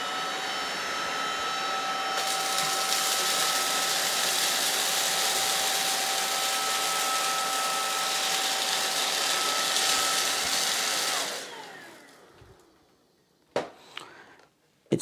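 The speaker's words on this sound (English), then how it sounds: "I'm going to be using the cleaner in the normal mode first." MooSoo K17U cordless vacuum cleaner in normal mode, picking up cornflakes and crackers: a steady, fairly loud motor whine runs for about ten seconds, then winds down, followed by a few faint knocks.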